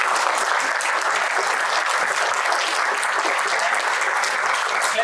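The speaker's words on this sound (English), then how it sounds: "clap for Swami" An audience claps for a visiting Swami after a talk held with IIT Madras, producing a sustained, even wash of applause from a large crowd throughout, with no voices standing out.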